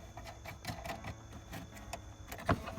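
Bolts being tightened on a BMW E46 LCI LED taillight retrofit, heard as quiet close-up ratcheting clicks and small metallic ticks in an uneven rhythm, with one sharper clunk near the end.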